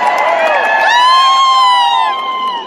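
Crowd at a promotional event in Pune for the Marathi film Mauli cheering and whooping with high shouts for actress Saiyami Kher, a loud dense mass of voices sustained throughout.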